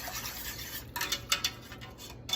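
A whisk stirs thick, pasty cheese grits into sausage gravy in a pot, making soft scraping and rubbing strokes that come in quick irregular bursts, near and fairly quiet, with no talking.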